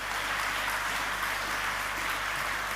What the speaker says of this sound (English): please keep that applause going to thank Minister Nat Cook